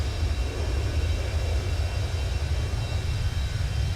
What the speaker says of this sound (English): Definitely hear that jet off to the right.